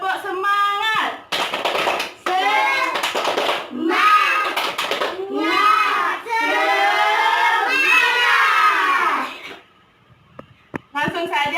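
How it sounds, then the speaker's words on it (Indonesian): Classroom of children joining in a rhythmic spirit-clap chant led by a teacher, with bursts of group chanting and claps in a steady pattern, fairly close and loud, ending in a short pause with a few scattered taps. "Tepuk semangat!"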